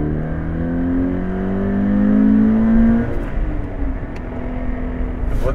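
A 2013 Scion FR-S engine with a BLITZ drop-in panel air filter revs up on a dyno, its drone climbing steadily in pitch, then dropping off sharply as the throttle closes and the engine spins down.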